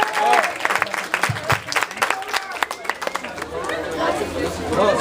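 Audience at a keynote lecture claps in welcome, the applause uneven and mixed with loud chatter and crowd murmur, people talking close by throughout.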